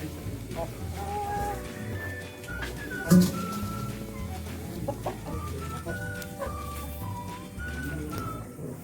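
Hens at their laying nests cluck in a steady stream of short, overlapping calls, with one sharper squawk partway through and farmyard bustle around them.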